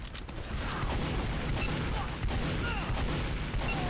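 Gunfire rattles through a team video game match, a dense continuous barrage of shots and blasts with no clear gaps, steady and loud throughout.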